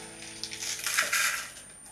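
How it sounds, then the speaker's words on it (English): Cacao nibs drop into a container of coconut oil, a brief faint patter of small hard pieces, close and brief, with no talk. "And then we're gonna put some cacao nib in."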